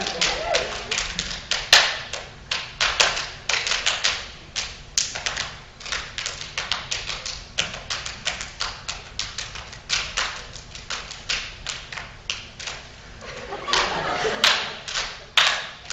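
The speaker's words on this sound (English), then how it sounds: "here's a group of students who took the concept of hand clapping and made it both complex and interdependent" A group of students clapping hands in a complex, interdependent pattern: a long run of crisp, fast, tightly interlocking claps and slaps with shifting accents, loud and close, keeping a brisk rhythm throughout.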